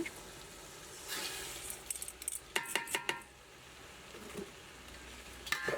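Soaked, drained rice goes into a pot for masoor lentil khichdi: a quiet sizzle, then a short burst of clattery pouring and utensil clinks, with another knock near the end.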